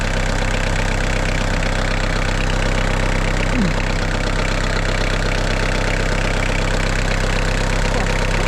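A Kubota GT5 tractor engine idles steadily and loud up close, running a little unevenly after an oil and air filter change, with a constant low rumble and no talking.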